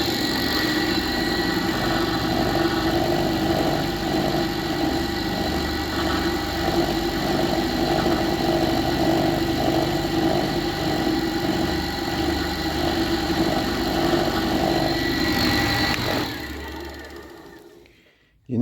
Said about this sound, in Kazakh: Генераторды толығымен жинап стендке қосып қойдым